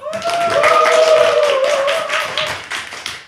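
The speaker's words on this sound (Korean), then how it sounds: "박수 한번 주시죠." Studio clapping greeting a guest on a food travel show about Jeju, loud, close hand claps with a sustained tonal whoop or whistle over them that fades toward the end.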